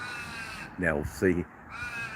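Two harsh caws from a crow sound close by in an outdoor setting with a lawn and a fence, and someone speaks briefly alongside them.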